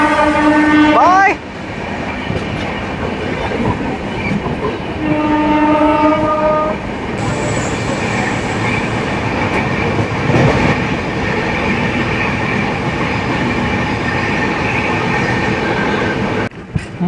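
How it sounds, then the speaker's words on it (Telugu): Swarna Jayanti Express on a diverted route, arriving at Undi railway station: a loud train horn blasts near the start and sounds again briefly, followed by steady rumbling and rattling of coaches running close by. "మన ఈ రూట్ డైవర్టర్ ట్రైన్ అయితేనండి ఉండి రైల్వే స్టేషన్కి అయితే వచ్చేసిందండి."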